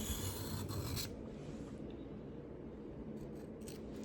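A Spyderco Resilience knife being sharpened to a 15-degree bevel on stones makes a steady close scraping rasp that runs on continuously, slightly brighter at first, with no talking.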